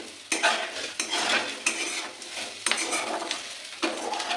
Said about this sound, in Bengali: অল্প একটু নাড়াচাড়া করে